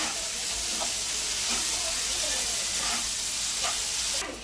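Chopped onions sizzle loudly in hot oil with salt, a close, steady crackling hiss with occasional stirring scrapes that carries evenly from start to finish.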